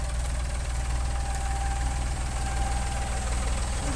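A Toro lawn mower engine runs steadily through the whole stretch, a close, continuous knocking drone with an even rhythm and no talk over it.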